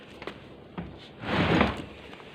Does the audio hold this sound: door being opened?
yes